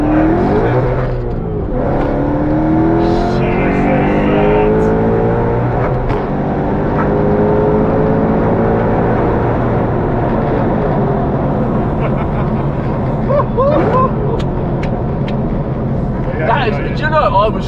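A 1000bhp Whipple-supercharged V8 Mustang GT pulls hard through the gears, its engine note rising in long sweeps and settling into a steady loud roar, with people talking over it throughout.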